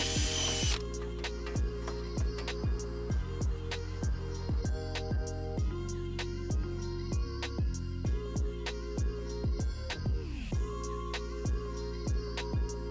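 Power drill working on a Ford Bronco during a rock light install, repeated ratcheting clicks and short bursts of motor whir, close and fairly quiet, no talk.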